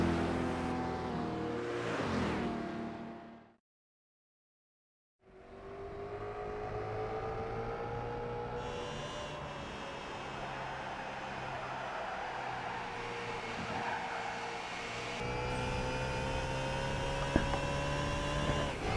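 A Ferrari with a big V8 drives in a large fourth gear, a steady engine drone and whir heard from inside the car, broken by a brief silent gap, then continuing with rising and shifting tones.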